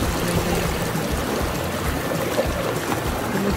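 Clear, clean river water flowing steadily, a continuous broadband rushing and trickling that stays even and close throughout with no voices.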